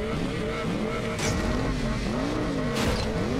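A TVR Sagaris racing in Asphalt 8 during an overtake, with a continuous roaring engine and whining gear changes, rising and falling pitch sweeps, and a couple of tire-squeal bursts, loud and close without talk.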